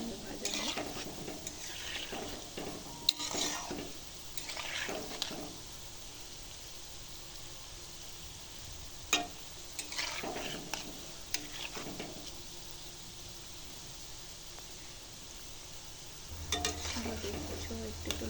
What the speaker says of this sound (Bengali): এবার দেখতে পাবো এইভাবে সুন্দরভাবে একটু উল্টে পাল্টে দেবো, যাতে সব দিকেই তো খুব সুন্দরভাবে ভাজা হয়